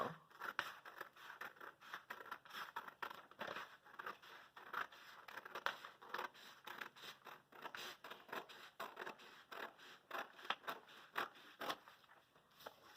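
Scissors cutting paper wing coverings for a Right Flyer model airplane, a faint, continuous crackle of snipping and rustling paper close by with no talking.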